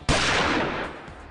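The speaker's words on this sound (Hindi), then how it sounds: "किरण ने मुकुंद को पाने के लिए मांसा को ही रास्ते से हटाने का मन बनाते हुए गोली चलाई," A single loud gunshot from a handgun in a television drama, with a sharp onset followed by a broad, noisy blast that decays over about a second.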